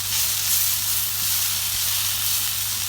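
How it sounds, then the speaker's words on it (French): Onions browning in a pan for a lamb tagine give a steady, close, even sizzle with a dense hiss, no voices over it. "mes oignons bien rissolés"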